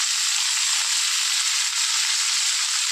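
Drumstick leaves sautéing in a pan for a jackfruit seed curry, giving a steady, even sizzle that holds at a constant level throughout, close and without any voices.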